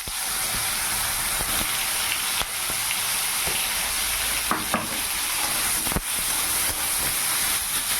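Spiny gourd pieces coated with salt and turmeric fry in hot oil in a kadai on a stove, giving a loud, continuous close-up sizzle with a few small pops and scrapes.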